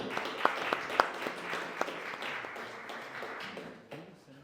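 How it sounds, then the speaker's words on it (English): Applause for a volunteer at a hackathon pitch event, opening with a few sharp, close claps and then settling into a moderate crowd clapping that gradually fades out. "A big round of applause for our volunteer."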